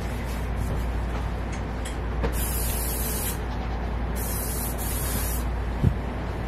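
Two bursts of hissing spray from a spray bottle used on goats during milking, each lasting about a second, over a low steady background hum, with a couple of faint clunks near the end.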